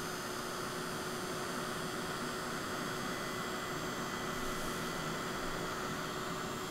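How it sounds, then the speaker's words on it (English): A heat embossing dryer runs for card-making, giving a steady, even electric whir and hum with airflow hiss that holds level throughout with no talking. "I'll just start my dryer going so it gets warm"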